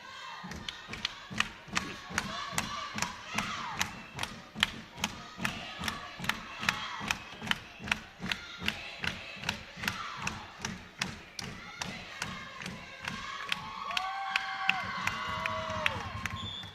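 A high school volleyball student section at a Sweet 16 playoff match, AHS versus GNBVT, chants and claps in unison, producing a steady rhythmic run of sharp beats under a crowd roar that swells slightly toward the end.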